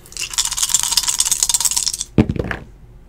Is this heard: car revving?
no